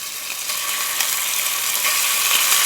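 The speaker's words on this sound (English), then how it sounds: "There's that lovely sizzling sound." Lamb meat sizzling in clarified butter in a hot pan for a stew, a steady, close hiss of frying with faint crackles throughout and no talking.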